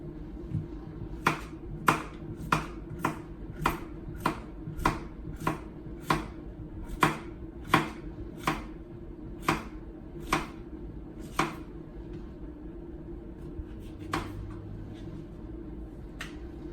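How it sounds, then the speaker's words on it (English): A knife chops squash on a cutting board in a steady run of about fifteen crisp, close knocks, which thin out toward the end over quiet room tone. "You can cut it as thin or thick as you like."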